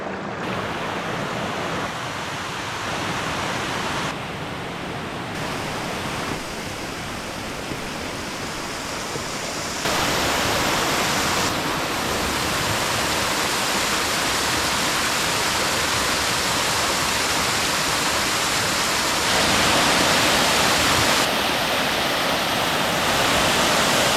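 Continuous roaring rush of Hell's Hollow waterfall in Slippery Rock Gorge, McConnells Mill State Park, a dense broadband wash that swells slightly louder partway through and never pauses.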